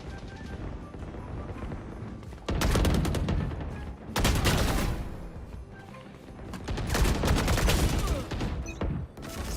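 Rapid bursts of gunfire from the shooter game Valorant come in loud dense volleys with short gaps between them, mixed with clicking mechanical weapon sounds, and no voices.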